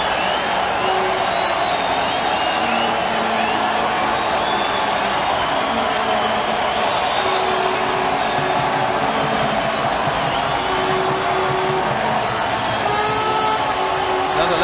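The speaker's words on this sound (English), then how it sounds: "the crowd getting a little bit riled up" A baseball stadium crowd at an Angels at Athletics game in Oakland, a steady loud roar of many voices with scattered clapping and whistles, building continuously with a distant announcer's voice faintly underneath.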